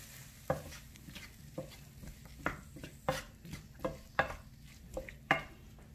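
A spoon stirs an Indian dish with tomatoes in a cooking pot, giving about a dozen sharp, irregular clacks and scrapes against the metal, close and fairly quiet, with no talking.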